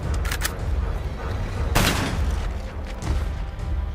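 Gunfire from Call of Duty: Black Ops multiplayer, with dense bursts of rapid shots and booming blasts layered over a constant rumbling game mix, loud and close throughout, no talk.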